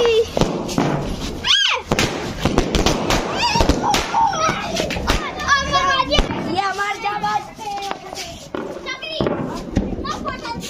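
Diwali firecrackers bang in loud, sharp bursts amid excited children shouting and playing close by, with several thuds and crackles scattered through the noisy festive scene.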